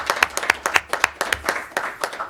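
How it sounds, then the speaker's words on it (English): A round of applause from attendees at a school-district education alliance board of directors meeting: brisk, evenly paced clapping from a modest group, close and clear, with no talking. "All right, let's give Eric a round of applause."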